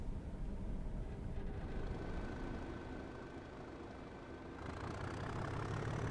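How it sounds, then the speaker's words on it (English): Class 37 diesel locomotive engine idling in a train simulator game, recorded from 37674 on the Wensleydale Railway in North Yorkshire: a steady low rumble that holds throughout, thickening slightly toward the end, with no talk. "The sounds for the Class 37 were recorded from 37674 on the Wensleydale Railway in North Yorkshire."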